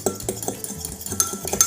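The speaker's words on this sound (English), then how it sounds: "So mix all of that up" Eggs and milk being stirred in a cup for microwave scrambled eggs: a quick series of utensil clinks and scraping taps against the cup, close and fairly loud, with no talking.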